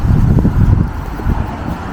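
Wind gusts buffet the microphone in low rumbling bursts outdoors in Swansea, Canada, steady and loud throughout the short stretch; the wind is not cold.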